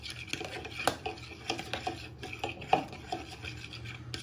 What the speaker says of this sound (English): And you're just whisking them all in.